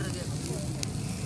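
Chicken pieces and garlic cloves sizzle over an open fire at a beach barbecue on Qatar's Sealine Beach, a steady close crackling hiss with a faint brief hiss spike partway through.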